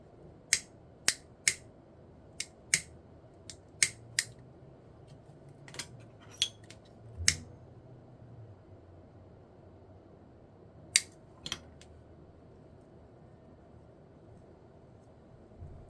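Scissors snip ribbon for a handmade bow hairpin, a series of sharp crisp clicks spaced irregularly over a quiet hum, close and clear, then a long pause before two final cuts.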